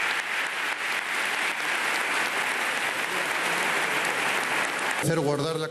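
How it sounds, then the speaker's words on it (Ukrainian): Loud, dense standing applause in a parliament hall greeting a new monarch, a continuous roar of many hands that holds steady, then gives way to a voice speaking near the end. "Нового монарха під бурхливі оплески вітають стоячи."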